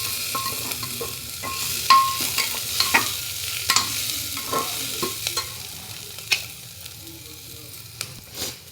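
Spices frying in a pan, a steady sizzle under repeated sharp scraping and tapping stirring strokes, fairly close and irregular, with no talk.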